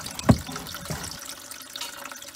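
Water runs from a domestic tap supplied through a Whale Water Master socket with an adjusted pressure switch, flowing steadily and unpulsed at moderate level after a brief louder splash near the start.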